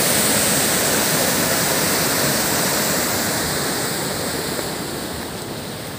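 Water rushes down a waterfall, turning white as it falls, in a steady, loud broadband roar that holds constant, close by, with no voices over it.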